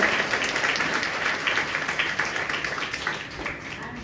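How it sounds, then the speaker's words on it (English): A crowd applauds at a Class 3 school presentation at Spring Dale College in Lucknow, with steady, dense clapping filling the hall at an even level throughout. "the ma'am also needs one big round of applause"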